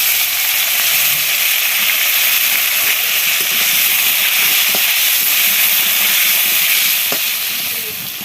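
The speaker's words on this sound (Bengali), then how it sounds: "পটল আলু কষে কষে ভেজে নিতে হবে" Pieces of potol and potato frying in hot oil in a pan, a loud, steady, close sizzle with crackling throughout and no pauses.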